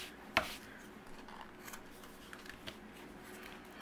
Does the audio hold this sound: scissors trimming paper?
yes